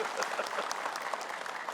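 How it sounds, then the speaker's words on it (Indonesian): Dense audience applause at a religious television gathering, a continuous crackle of many hands clapping at a steady level throughout a short stretch. "tepuk tangan buat bapak-bapak"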